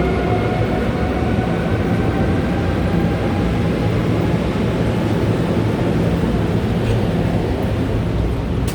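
A PATH train at the World Trade Center Oculus station gives off a loud, steady rumble of wheels and motor, with a faint high whine above it and no talking.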